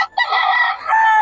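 Roosters at a gamecock seller's in Bocaue crowing loud and close, one long sustained crow with a brief dip before it rises again.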